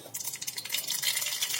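Mustard seeds are added to hot oil for tempering, giving a bright crackling, popping sizzle that builds and holds steady, close and alone with no talk.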